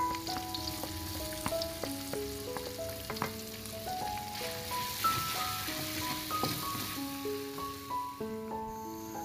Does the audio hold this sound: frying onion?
yes